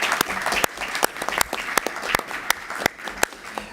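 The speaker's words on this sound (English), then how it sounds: "Let's give them all one final round of applause." Audience applause at an Organization of American States event: distinct, sharp individual claps ring out over a soft background murmur, moderately loud and fairly sparse, as from a modest crowd, continuing for nearly four seconds.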